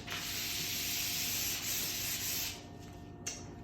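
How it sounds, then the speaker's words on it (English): Close, continuous sanding along the vertical stile of an oak door, a dense even rasping that runs for about two and a half seconds, then drops to quieter scuffing with a brief sharp scrape near the end. "So I'm just going to sand that."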